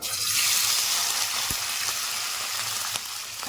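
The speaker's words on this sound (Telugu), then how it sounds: "పన్నీర్ ముక్కల్ని మనం ఈ నూనెలోనే వేసుకోవాలి" Paneer pieces fry in hot oil with a steady, bright hiss that holds throughout, broken by a couple of sharp clicks from a utensil. No one talks.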